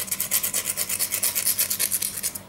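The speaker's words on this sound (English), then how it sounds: "You have to sand it on any sandpaper or SanDisk." Sandpaper scrubs against a piece of copper wire in fast, even back-and-forth strokes, a close, gritty rasp that repeats evenly throughout without talking.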